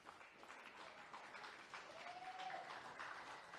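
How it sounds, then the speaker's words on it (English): A generous crowd at Seaford Oval applauds a schoolboy rugby league win, a faint, distant wash of clapping running steadily throughout with a brief whistle-like tone in the middle. "You can hear the generous crowd here at Seaford Oval acknowledging a good win there."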